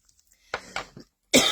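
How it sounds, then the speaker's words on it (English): A few short, tickly coughs from one person close by, two light hacks followed by a sharper, harsher cough at the end, with brief silence between. "got a tickly cough now."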